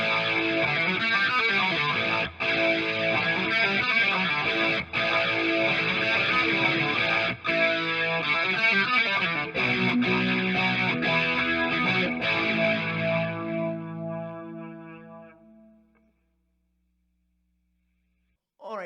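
A distorted electric guitar, its tone dialed in for a song, plays dense, driving chords with chorus effect, loud and steady with a few brief breaks, then rings out and fades to silence near the end.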